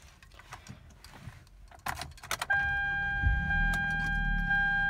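A 2013 Hyundai Genesis 2.0T starts up: cabin clicks and rustling, then a sudden loud engine catch settling into a steady close idle, with electronic chime tones sounding over it.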